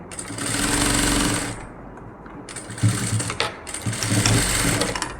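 A sewing machine stitches along the edge of a nighty in loud, fast, rattling runs, stopping briefly partway through, then starting again with a few more bursts.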